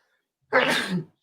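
A single short, burst-like sneeze or throat-clearing sound, close and fairly loud, lasting about half a second after a moment of silence.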